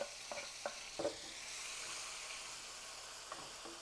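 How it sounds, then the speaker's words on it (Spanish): Tomato and onion sofrito for Colima-style sweet enchiladas fries in a pan, a soft, steady sizzle punctuated early by a few clicks of a stirring utensil against the pan, with no voices. "Vamos a dejar aquí que se sofría un poco el tomate y la cebolla"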